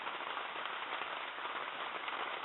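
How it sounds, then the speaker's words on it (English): Heavy rain falling steadily, a dense, even hiss of countless drops pattering on surfaces, constant and unbroken for the whole moment with no voices. "We have one more day of this rain."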